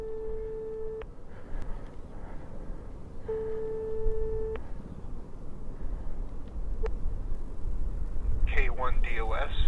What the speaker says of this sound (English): and now it's ringing